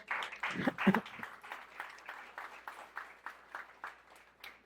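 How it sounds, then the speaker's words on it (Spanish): A church congregation applauding, a burst of clapping that starts dense and thins into scattered rhythmic claps, fairly faint and distant. "un aplauso a Dios por eso"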